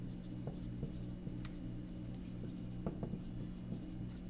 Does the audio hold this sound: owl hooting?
no